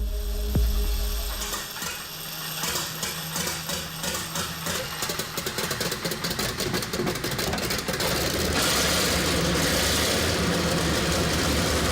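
The replacement engine of an M18 Hellcat tank turns over and fires, its rough mechanical clatter settling into a loud, steady idle that keeps running without pause, with no talk over it.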